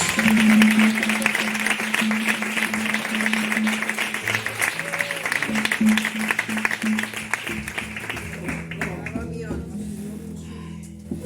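A church congregation claps loudly and continuously in praise, with music or a sustained tone underneath and voices rising through the applause as it gradually thins toward the end.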